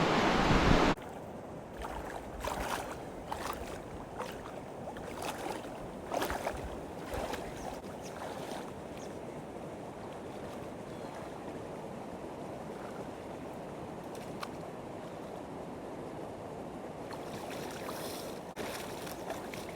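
Water running steadily at a farm field outlet, a continuous close rushing wash that holds fairly even throughout, with a brief louder burst at the very start.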